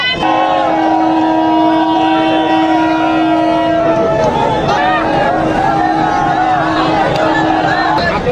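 A crowded passenger train in Dhaka, Bangladesh, with a long sustained horn blast followed by rising and falling tones, engine and rail noise running loud and close throughout.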